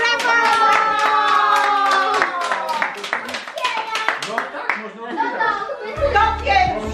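Rapid clapping at a family Christmas Eve gathering in honor of Santa Claus, mixed with excited children's voices and chatter. The applause carries on through the room, thinning as the talk takes over.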